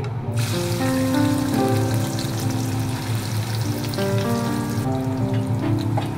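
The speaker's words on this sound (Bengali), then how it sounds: "এখন দিয়ে দেবো কিছু পেঁয়াজ কুচি" Chopped onion sizzles in a pan for a dried-fish curry, a constant crackling fry heard close under steady tonal background music.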